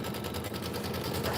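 A sewing machine in a sewing and vacuum shop stitches in a rapid, even mechanical chatter, close and steady for its whole short run.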